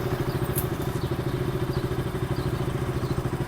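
A motorcycle engine idles close by with a steady, even pulsing thrum and slight clatter, continuous for several seconds without talk.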